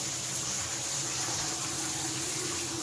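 Water pours steadily from an 18-inch rainfall shower head in an unfinished, ungrouted shower, a dense, even hiss holding at the same level from start to finish.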